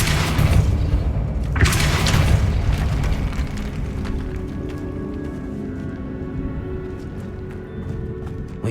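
A Depulso force spell in the Hogwarts Legacy video game lands as a loud booming impact, with a second burst around the two-second mark, then a rumbling decay under lighter clattering game effects.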